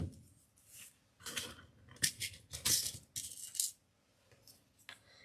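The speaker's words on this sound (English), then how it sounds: "This is where you have to have really sharp scissors." Sharp scissors cutting the ends of Halloween ribbon into dovetails for a topiary tree: several crisp snips and rustling crunches in short bursts, close and fairly quiet.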